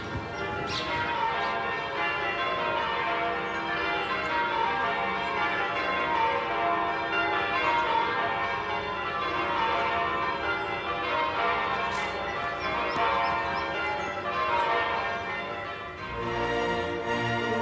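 Church bells ringing in changes, a continuous overlapping peal of many struck tones with a steady rhythmic pattern, full and resonant, no voices.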